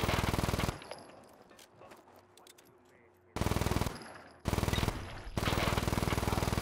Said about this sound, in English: is there a guy up there shooting at me?